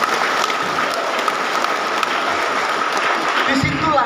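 An audience at a gathering of a martial arts association applauds in a steady, even wash of clapping, moderately loud and continuous, with a faint murmur beneath it.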